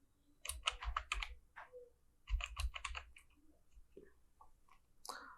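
Someone types a search on a computer keyboard, with close, clattering bursts of keystrokes, a pause, then another quick run and a final tap.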